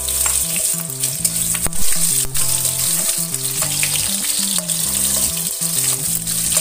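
Shallots drop into hot oil for a stir-fry of carrot and papaya, producing a loud, steady crackling sizzle throughout with occasional stirring clicks over soft background music.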